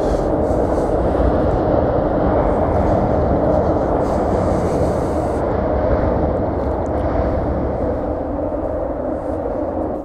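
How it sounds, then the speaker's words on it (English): A train rumbles past close by on the bridge over the Tagus River in Lisbon, a steady loud roar with broadband rail noise holding throughout. "Train going there."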